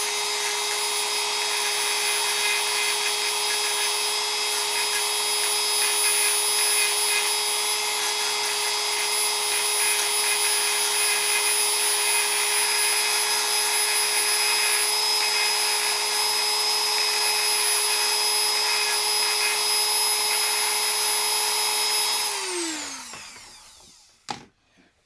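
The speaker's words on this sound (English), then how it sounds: "I'll use the old Dremel 4000." A Dremel 4000 rotary tool runs steadily at high speed on a toy part, a loud continuous whine held for about twenty-two seconds before it spins down and stops near the end.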